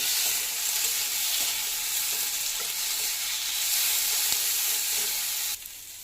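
Spice masala sautéed with turmeric and salt hisses in a hot pan, a steady loud sizzle broken by faint scrapes of stirring, cutting off abruptly near the end.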